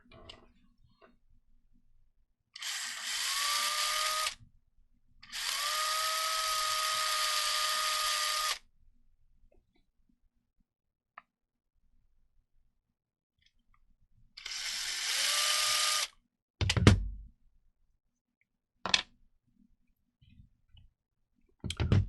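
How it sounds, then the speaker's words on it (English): A power drill enlarges holes in an Axial SCX10-III part in three close bursts of high whine, the second longest, followed by sharp clicks and handling knocks in a quiet room. "So I'm starting off just by drilling these holes out a little bit bigger"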